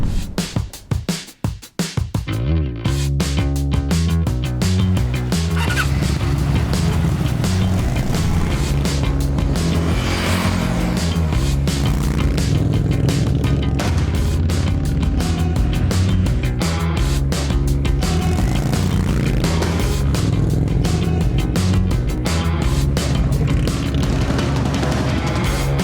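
Indian Scout motorcycles are ridden on the road. After a brief rough start, a deep, loud engine drone runs continuously, rising and falling with throttle and wind rush, with no talk over it.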